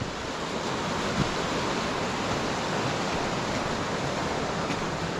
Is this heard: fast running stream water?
yes